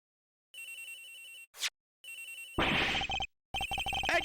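A phone rings in a video game, electronic repeated trilling tones in short bursts separated by gaps, interrupted by a brief whoosh and a noisy burst partway through.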